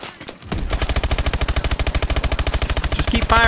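Rapid automatic gunfire from Call of Duty: Advanced Warfare, a loud, steady stream of evenly spaced shots lasting several seconds, preceded by a brief rustle and ending in a louder burst.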